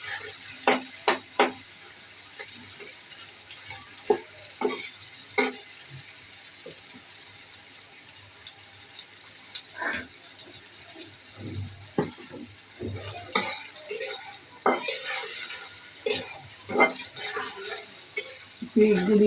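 Chopped onions fry in a pan as the base for a shing fish curry with potato, eggplant and tomato, giving a steady sizzle punctuated by repeated scraping stirs of a spatula, with no talking.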